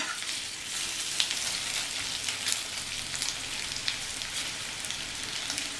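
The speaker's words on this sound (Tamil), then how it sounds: "அப்பப்போ கிண்டி விட்டுக்கலாம், பரட்டி விட்டுக்கலாம்." Potatoes stir-frying in oil in a heavy-bottomed kadai, a dense continuous sizzle with faint scrapes of a wide spatula turning them now and then, close and steady.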